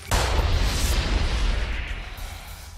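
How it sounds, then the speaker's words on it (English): Large explosion in an otome video game, a loud broad boom with a sharp onset, followed by a dense rumbling roar that slowly fades over a couple of seconds, heard alone without speech. "Instead of the bullet ripping into Erik, a large explosion forced both away from each other"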